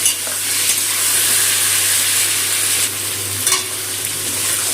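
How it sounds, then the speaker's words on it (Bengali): Poppy seed and mustard paste with Kashmiri chili powder frying in oil, a close, continuous loud sizzle with a few stirring scrapes and no talking throughout. "তেলের মধ্যে ভাজা ভাজা করে নেবো পোস্ত আর সর্ষে বাটা আর কাশ্মীরি লঙ্কার গুঁড়োটা"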